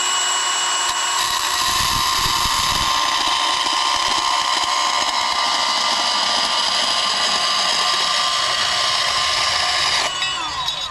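A bandsaw in a workshop runs with a sustained high mechanical whine and blade hum, cutting steadily for most of the stretch before winding down near the end.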